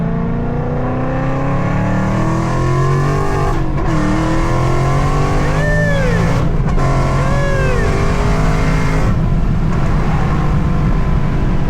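Loud, continuous engine roar from a Whipple-supercharged car, with a rushing intake sound of air being sucked in and rising and falling pitch as it revs nearby.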